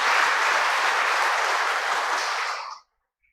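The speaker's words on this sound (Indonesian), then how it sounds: "Tepuk tangan untuk mereka." A church congregation claps for the choir at a Sunday Mass parish anniversary celebration, a dense, sustained round of applause that holds steady for a few seconds and then stops abruptly into silence.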